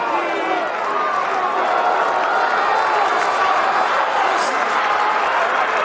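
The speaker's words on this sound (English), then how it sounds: "the home crowd have found a little bit of enthusiasm" A home crowd at an Argentina versus Wales rugby test match roars in a sustained wall of cheering and applause, with a commentator's voice running over it.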